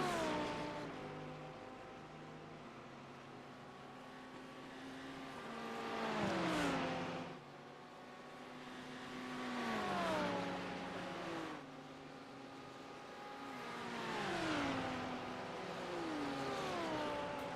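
A Lamborghini race car engine in the iRacing game at the Nürburgring Nordschleife screams through the gears. Rising revs repeatedly cut into downshifts as it brakes and accelerates, loud and close, with no talk.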